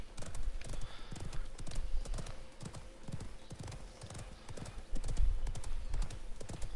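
Horse hooves gallop in a rapid, steady clip-clop rhythm during an online video game match, loud and close throughout, with a brief whinny-like sound and game noises layered in.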